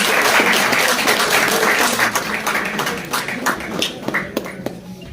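Crowd applause at an all-Kashmir pigeon tournament award ceremony in India, steady dense clapping that thins into a few scattered louder claps near the end.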